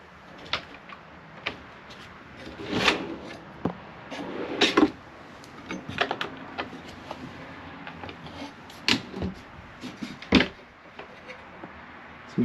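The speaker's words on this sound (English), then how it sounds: "And again, soft closed drawers." Soft-close drawers and cupboards in the kitchen of a 2026 Winnebago Micro Minnie 2108TB travel trailer, opened and shut several times, giving a series of muffled thumps, slides and light clacks at close range.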